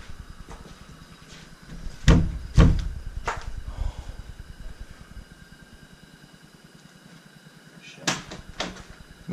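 A door nailed shut in an abandoned school building is shaken, giving several loud rattling thumps in two bursts separated by a quieter stretch, over a low continuous hum.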